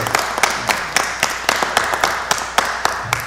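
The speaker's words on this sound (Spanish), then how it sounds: "Vaya para ustedes un aplauso fuerte de aquí de la mesa y un reconocimiento" Audience at a law faculty Lawyer's Day commemoration applauds with a brief burst of clapping, individual claps distinct and fairly close, steady throughout.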